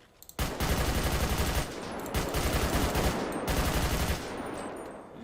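Carbine rifle gunfire from a FiveM sound pack: loud rapid automatic bursts, three long sustained volleys separated by brief gaps, close and alone.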